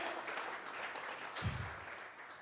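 Church congregation applauding during a Sunday morning service, a soft, fairly distant patter of clapping that continues steadily for a couple of seconds.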